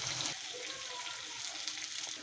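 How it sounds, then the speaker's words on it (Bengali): Pieces of elephant foot yam fry in hot oil with a little turmeric, a steady soft sizzle that holds evenly throughout at close range. "ওলগুলো লাল লাল করে ভাজছি আমি।"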